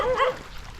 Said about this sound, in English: These dogs want me.